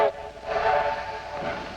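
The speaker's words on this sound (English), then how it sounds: "That must be our train." A 1950s train sounds its whistle as it approaches, a harmonic wail over the rumble of rolling cars that stays loud and steady through the short stretch, with no talk.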